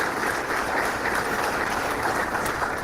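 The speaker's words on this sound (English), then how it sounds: "let's each of you give each other applause" An audience at a Guilford Family Justice Center 10th anniversary event applauds in a steady, dense wash of clapping that holds at even strength throughout, with no voices standing out.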